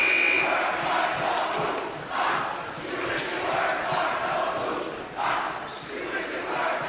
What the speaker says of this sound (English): Cardinal Newman cheering section having some fun.